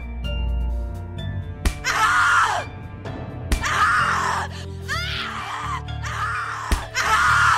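Woman screaming in the horror game The Cat Lady, several long anguished shrieks in bursts with brief gaps, loud and close over a low droning music bed.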